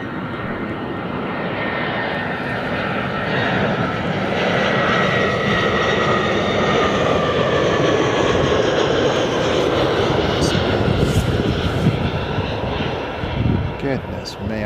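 An EasyJet Airbus A320 with Neo-style winglets roars at Bristol Airport, a loud sustained jet engine noise holding steady throughout, with a voice talking over it.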